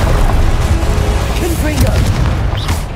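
Explosive Confringo spell blasts in a Hogwarts Legacy trial fight, loud booming bursts packed over dense game noise and music, with a voice calling out between them.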